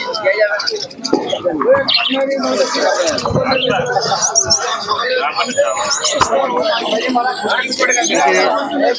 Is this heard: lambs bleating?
no